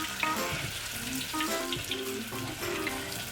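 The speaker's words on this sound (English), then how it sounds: "you deep fry the coated tofu in small batches" Coated tofu deep-frying in small batches of hot oil, a steady dense sizzle and crackle with occasional bubbling pops, close and continuous.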